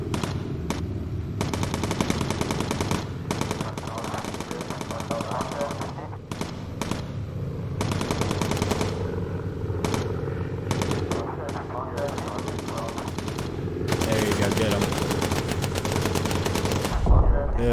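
Rapid machine gun bursts from turrets on a bomber in the Bomber Crew video game, stuttering fire over a droning engine and game music, with a voice talking underneath.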